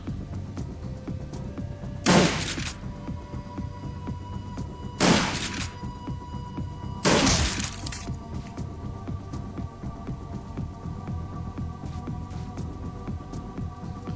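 Three loud, sharp shotgun blasts from the video game Shadowrun: Dragonfall, spaced a few seconds apart over a low steady hum.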